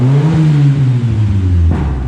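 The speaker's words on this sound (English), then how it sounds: "Engine is dead quiet for being built and has big cams in it." Built engine with big high-lift cams idling in a tuned Ford car in cold weather, a loud, close, steady low drone with a faint lope and slight pitch wavering.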